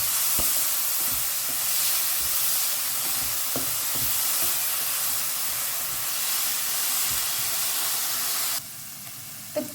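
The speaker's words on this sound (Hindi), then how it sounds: "हमें ना प्याज को ना एक बढ़िया सा ब्राउन कलर आने तक हमें इसे फ्राई करना है" Finely chopped onions fry in a pan, a loud steady sizzle and hiss with occasional clicks that cuts to quiet near the end before a single soft knock.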